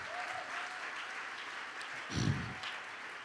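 An audience at a conference claps steadily in a sustained wash of applause, with a brief louder thump partway through.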